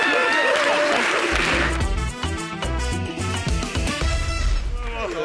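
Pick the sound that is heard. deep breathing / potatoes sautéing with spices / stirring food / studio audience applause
studio audience applause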